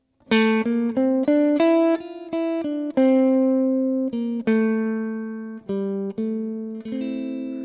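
A clean synthesized tone plays a Phrygian mode scale stepwise up and back down, each note sustained and decaying, with a dark minor-sounding color from the flat second.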